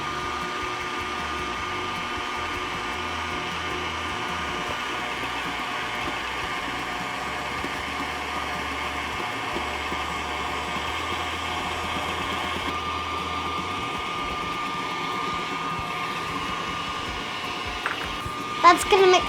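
A high-speed electric mixer beats sponge cake batter with sugar, whirring steadily and loudly throughout, with a brief clatter near the end.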